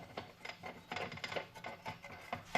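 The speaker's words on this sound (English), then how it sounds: "Take that nut off and you screw your arbor adapter on." Soft, intermittent metallic scraping and rubbing as an arbor adapter is screwed onto a 5 or 7 inch hand grinder after its nut is removed, with a few quiet clicks and turns close by.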